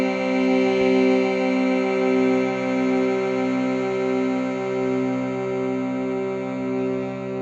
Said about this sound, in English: it let out a giant reverberation as a vibration of sound echoed across the entire temple as it sung